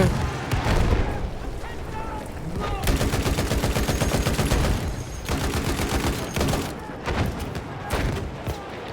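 Sustained Battlefield gunfire, dense rapid bursts of automatic weapons mixed with heavy booms, continuous and loud over nine seconds with brief gaps between volleys, while players talk over it.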